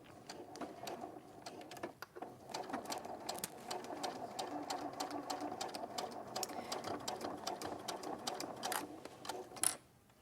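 A domestic sewing machine runs continuously at a 2.6 stitch length, stitching through bulky layers of fabric, giving a close, busy mechanical whir with rapid ticking needle strokes that ends in a brief clunk.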